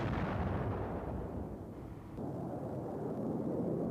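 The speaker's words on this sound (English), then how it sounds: "This gun camera footage shows an Iraqi hangar being destroyed by an AS-30L missile." An AS-30L laser-guided missile destroying an Iraqi hangar during Desert Storm, heard as a loud, sustained explosive roar and rumble that dips briefly and then continues steadily.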